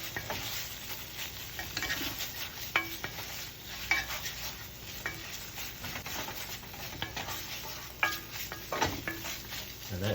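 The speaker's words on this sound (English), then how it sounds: "as I'm stirring this and cooking it, I'm kind of mashing it a little bit" Chicken livers stirred and mashed in a hot frying pan, sizzling steadily with repeated scraping and clacking of the utensil against the pan, close and fairly loud throughout.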